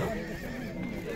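A horse at a horse market gives a short, close whinny, with voices and market noise around it.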